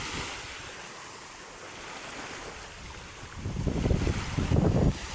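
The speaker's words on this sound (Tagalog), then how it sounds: "tingnan mo, lakas ng hangin oh" Strong gusty wind roars across the microphone at the seaside with surf washing in behind it, swelling louder toward the end, with no talk heard.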